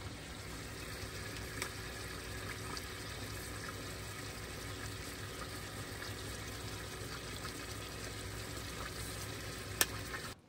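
A meal frying in a pan while cooking inside a van, a steady even sizzle at moderate distance with a faint clink near the end and no talk.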